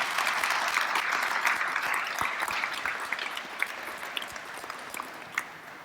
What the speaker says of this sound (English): I want to give them a round of applause for everything they've done.